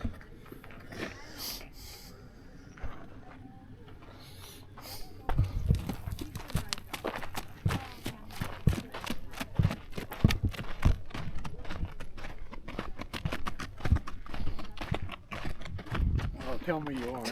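A horse walks in Monument Valley, its hooves clip-clopping in a steady, close rhythm of sharp knocks that grows louder after a quieter opening, with occasional snorts.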